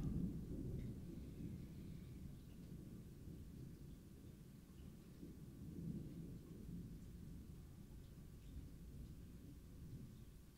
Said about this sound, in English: Thunder's pretty loud.